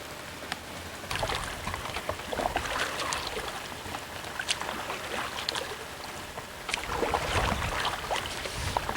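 Canoe paddling on a river during an Allagash trip, with steady broadband water and hull noise, intermittent splashy paddle strokes and wind buffeting on the microphone throughout.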